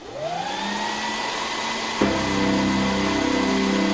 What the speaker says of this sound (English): I'll start by playing the Hoover bagpipes.